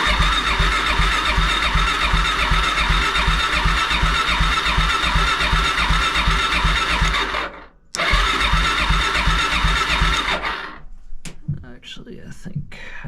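A Suzuki DRZ-400SM motorcycle is started from cold and runs with a loud, rapid, rough chugging pulse up close. The engine stumbles briefly, keeps going, and then dies, followed by clicks and handling sounds.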